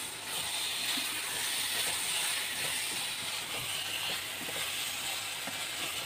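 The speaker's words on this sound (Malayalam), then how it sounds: "എണ്ണ ഇളക്കിയിട്ട് മുട്ട ഇനി ഇട്ട് കൊടുക്കാം." Eggs frying in hot oil seasoned with biryani masala give a steady, close hiss of sizzling with small irregular crackles throughout.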